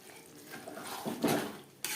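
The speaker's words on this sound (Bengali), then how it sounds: "চিকেনের সাথে ধনের গুঁড়ো ও জিরের গুঁড়ো বেশ ভালো করে মিক্স করে দেব" Chicken with ground coriander and cumin is stirred in an oily pan, a few scraping utensil strokes against the pan over a faint sizzle, with a sharper clatter near the end.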